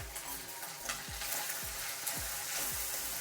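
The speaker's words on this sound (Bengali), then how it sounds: "দেখুন আমার আদাটা ভালো করে ভেজে নিয়েছি সুন্দর।" Ginger sizzling and frying in hot oil in a pan, a steady bright crackle with repeated soft stirring scrapes at a regular pace, close and alone without any voices.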